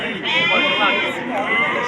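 Sheep bleat loudly and close at a livestock market, one long wavering bleat followed by another, with crowd noise around them.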